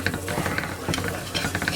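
Onions cooking in a pan with paprika and salt give a brief, close burst of scraping and stirring over a light sizzle.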